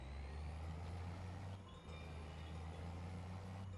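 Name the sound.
truck hauling straw bales in Farming Simulator 25 video game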